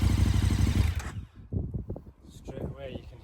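KTM 1290 Super Adventure motorcycle engine revving up close, a loud rumbling idle in the first second followed by a few short throttle blips, with a person talking over it.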